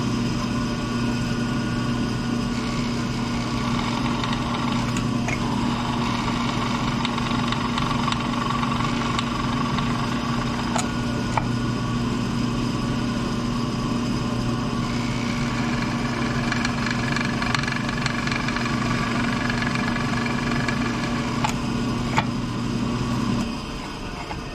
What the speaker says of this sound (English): I use 2 drill presses, that way I don't have to keep swapping bits all the time